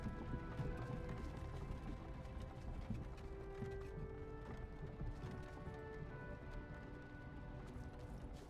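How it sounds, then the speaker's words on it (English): A horse-drawn carriage rolls along a road in Skyrim, with a steady patter of hooves and wheel rumble under a continuous ambient background. "It looks like the carriages are back on the road."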